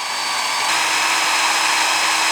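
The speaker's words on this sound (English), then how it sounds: "you're just gonna go find your marked spots and start drilling" A power drill bores through a Tundra GFC camper roof during a roof rack install, a loud continuous high whine that rises in pitch and intensity partway through, close and alone with no talking.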